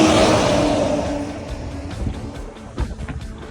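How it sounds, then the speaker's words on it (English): A car sweeps past loudly at the start and fades away, leaving a quieter roadside with a few lighter knocks and rumbles of more passing traffic. "There's a lot of cars driving."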